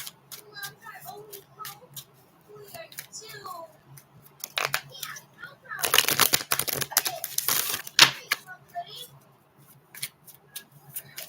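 Tarot cards being shuffled by hand, a burst of dense riffling and slapping clatter in the middle, preceded and followed by softer card handling while someone talks.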